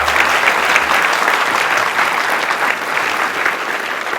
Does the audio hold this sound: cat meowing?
no